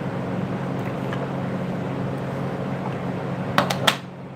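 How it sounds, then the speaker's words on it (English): A fan runs in a garage with a steady, moderately loud whirring drone throughout, and a few sharp clicks or knocks come near the end. "Sorry about the fan if you can hear it."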